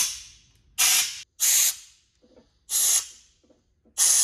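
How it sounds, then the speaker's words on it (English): Compressed air blasting through a nozzle fitted with a straw to clear coolant from engine head bolt threads, four loud hissing bursts of about half a second each, separated by short quiet gaps. "put it on the end of an air nozzle and get all the way to the bottom of the threads for the head bolts to blow out any coolant"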